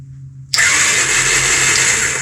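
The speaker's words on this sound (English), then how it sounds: "what if your bike is turning over with the starter button" A motorcycle starter engages after a short silence, a steady loud whirring crank that holds without catching, close and continuous over a low hum.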